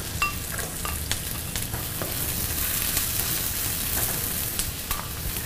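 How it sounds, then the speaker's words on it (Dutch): Garlic sizzles steadily in a hot wok as it is stir-fried, with a constant dense crackle of frying oil and occasional scrapes of the stirring utensil, no voices. "zoals gewoonlijk even weer wokken. Klein beetje bruin laten worden. En natuurlijk de knoflook."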